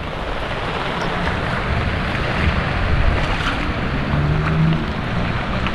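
Heavy overnight rain pours down while floodwater drains out behind a flooded farm plot where string beans are growing, a loud, steady broadband rush and wash with a deep rumble and no voices.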